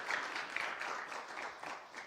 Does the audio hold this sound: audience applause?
yes